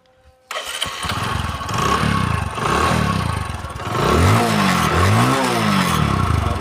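A used Bajaj Discover 100 cc motorcycle engine starts up and runs nearby, a loud steady idle with a clattering rhythm and a couple of rising revs, no talking.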